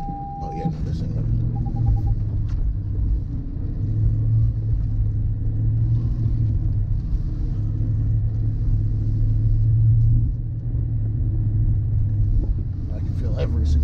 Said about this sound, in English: I can feel every single tire spinning.